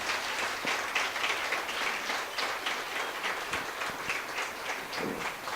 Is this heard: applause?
yes